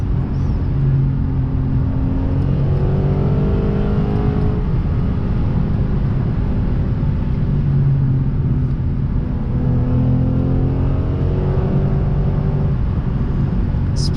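A Lexus RC F's V8 engine drones steadily under a moving cabin, rising and falling through gentle revs as the coupe cruises, with no talking.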